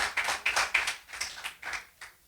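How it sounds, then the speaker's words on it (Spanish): A church congregation claps during a sermon, a short run of about eight uneven, nearby hand claps that fade out toward the end, with no talking over them. "Dale un fuerte aplauso al que lo crea"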